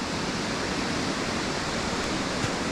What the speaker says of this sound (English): then drop down to the top of the waterfall on this side